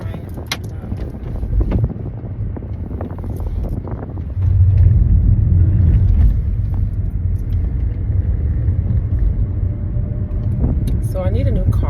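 A car cruises along a highway with steady low road rumble and wind buffeting throughout; the drone swells louder around the middle, and a person talks over it.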